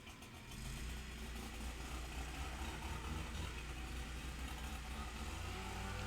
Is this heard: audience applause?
no